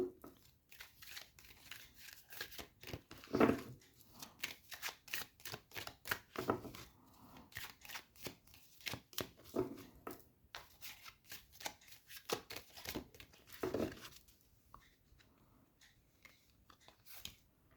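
Tarot cards being handled and drawn, with soft papery shuffling and repeated light snaps and taps that come steadily and close at low volume, with no talk.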